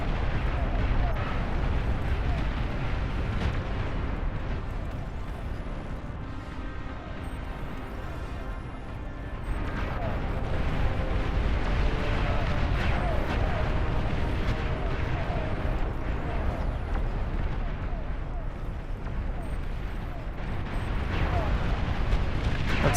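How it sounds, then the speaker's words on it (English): Explosions in a large multiplayer RTS battle rumble and burst continuously as dense, loud booms and crackles, one blast layered on the next without pause. "you can see the explosions through the fog of war"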